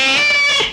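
A cat gives a single loud, close, drawn-out meow that tapers off at the end, with no talking over it.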